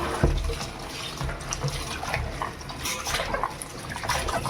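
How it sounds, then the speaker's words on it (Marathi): Water sloshing and splashing in a container as grated potatoes are rinsed by hand, soft and close, with occasional gushes. "यांना आता आपण धुवून घेऊ ते बघा असे स्वच्छ धुवून घ्यायचे आहेत दोन तीन पाण्याने"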